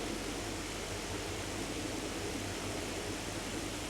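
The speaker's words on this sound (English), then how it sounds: "this electricity above is making so much noise" Overhead power lines above an English canal give off a constant electrical buzz, a steady hiss with a low hum beneath it and no speech.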